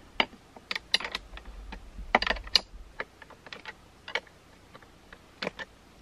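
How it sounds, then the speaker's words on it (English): A wrench tightens the terminal connections on a bank of batteries wired into one 60-volt battery for a micro hydro system, giving scattered close metallic clicks and ratcheting ticks in irregular bursts with short pauses and no talk. "now I'm gonna use a wrench here to just tighten these down"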